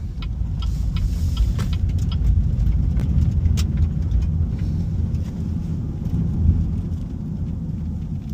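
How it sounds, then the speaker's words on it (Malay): Steady low rumble of tyre roar and wind rushing around a BYD M6 Extended MPV as it drives along, even and continuous throughout with no talking. "hanya ada bunyi tayar dan bunyi angin."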